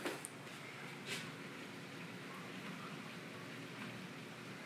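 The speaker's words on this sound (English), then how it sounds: "The rain definitely come out of nowhere." Soft, steady hiss of rain outdoors, faint and continuous with a few small spatters, no voices.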